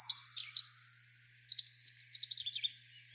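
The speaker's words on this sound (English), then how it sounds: "you can see clearly all the bird chirps" Lively high chirping and tweeting from several birds by a busy road, continuous and fairly close, with the low road noise filtered away.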